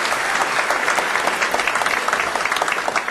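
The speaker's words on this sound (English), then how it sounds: "You can applaud" Audience applause at an anniversary event of a New York civic association, a loud, dense and steady wall of clapping from a large crowd throughout.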